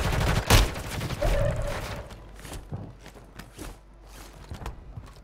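Gunfire in Call of Duty on PS5 on the Vondel map: a loud close shot at the start, then a scattering of quieter bursts and single reports at varying distances, with occasional footstep-like thuds between them.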